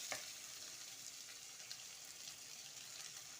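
Sliced onions with salt frying in a pan for a drumstick leaf and horse gram upsaru, a steady soft sizzle with a brief stirring scrape at the start, faint and close, with no talking.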